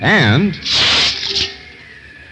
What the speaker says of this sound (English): that's the sound of a drop of water on the body of your car after it's been exposed to the sun's heat for a few hours.